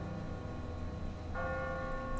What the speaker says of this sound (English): Ask not for whom the bell tolls.